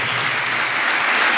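Loud, steady applause from a church congregation at a Thanksgiving Mass for Pakistan's Independence Day, a dense wash of clapping that stays even throughout with no voices on top.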